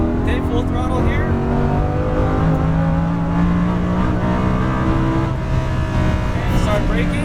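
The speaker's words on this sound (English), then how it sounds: "Squeezing the throttle, building up more speed. Okay, full throttle here." Lamborghini Huracan at full throttle on the Exotics Racing track in Las Vegas, its engine note rising steadily and loudly with climbing revs, heard from on board.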